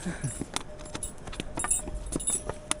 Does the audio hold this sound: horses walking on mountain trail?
yes